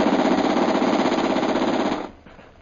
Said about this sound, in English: Fire the machine gun.